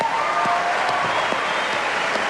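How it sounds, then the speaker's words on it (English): A television studio audience applauds during a 1999 NRL Footy Show grand final broadcast, giving a steady wash of clapping that runs evenly through the whole short moment. "Big round of applause for Phil."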